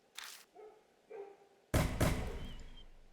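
Neighbourhood dogs bark in a night scene from a horror mystery game, first in a few scattered, mid-distance yaps, then in a loud, close burst of barks that ring out and fade.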